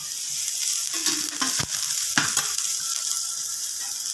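Vegetables stir-fry in a small amount of oil for a Maharashtrian vade bhaji, with a bright continuous sizzle and a few scraping, clacking spatula strokes up close.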